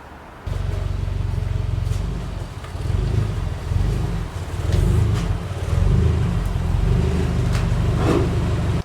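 A car engine drones low and loud as the vehicle drifts and swings toward a garage, with the rumble surging and easing in waves and wind noise hissing over it.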